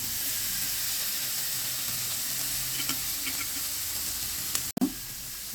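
Soy sauce hits a hot pan over a high gas flame, giving a loud, steady sizzle and hiss throughout, with a brief clatter near the end.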